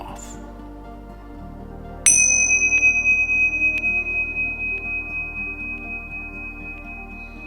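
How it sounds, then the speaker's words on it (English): Bells rung to close a mindfulness exercise: one bright strike of several bell tones, sustaining and slowly fading over a quiet, steady low hum. "I'm going to ring the bells."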